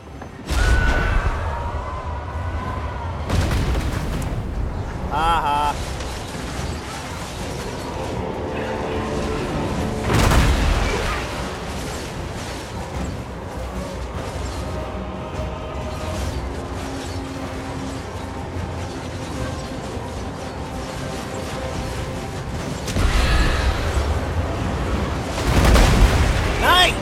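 Cygor artillery impacts in a Total War Warhammer 2 battle: heavy booms and blasts burst out of a dense, continuous din of fighting, with the loudest hits near the start, middle and end.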